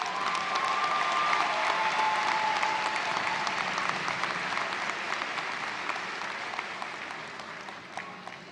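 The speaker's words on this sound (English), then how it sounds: "Let's have a round of applause for all of those graduates." Applause at a university spring commencement for the graduates: a large crowd clapping steadily and loudly, with scattered cheers, slowly easing off toward the end.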